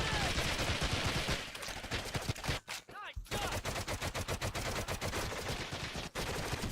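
Rapid bursts of automatic gunfire and single shots from the Medal of Honor Heroes video game, loud and dense, with a short lull midway before the firing resumes in a fast, steady rattle.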